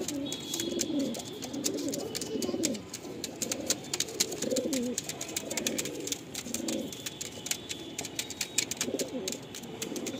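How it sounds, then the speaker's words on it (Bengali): Rare Lalshira pigeons coo in repeated low, throaty bursts close by, with sharp clicks and scratchy taps scattered throughout. "লাল শিরা পায়রা, তাও খুব রিয়ার।"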